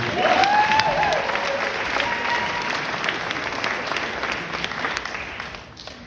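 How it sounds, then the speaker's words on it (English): Audience applause for a graduation speaker at a 2024 valedictorian address fills the hall with steady, dense clapping that slowly tapers toward the end, with a faint whistle near the start. "Let's give her another round of applause, please"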